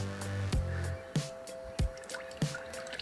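Oil drains from a 2014 Honda CR-V EX during an oil change, with irregular drips and splashes landing in a pan, several distinct plops standing out over a steady trickle.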